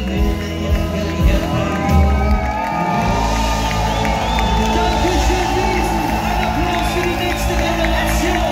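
A festival crowd at a live reggae show cheers and whoops for children on stage. Loud shouts and cries rise early, then settle into a dense, steady roar of voices.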